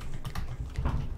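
A computer keyboard clatters with quick, irregular keystrokes at close range over a short burst, with no voices.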